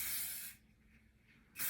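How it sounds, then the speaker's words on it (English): Light hold hairspray hisses onto curly hair in two bursts, one long spray followed by a short gap of near silence and a second brief spray, close and fairly loud with no voices. "But this is good because it's a light hold hairspray."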